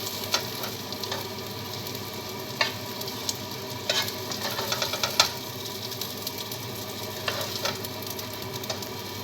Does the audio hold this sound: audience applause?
no